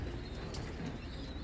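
Racing pigeons in a loft coo softly at a distance, set against a steady background hum. Nobody speaks.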